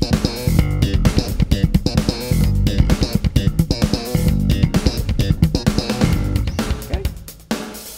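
Funky slap bass line in G at about 130 beats per minute, played alone with punchy, percussive popped and thumbed notes in a steady, syncopated groove.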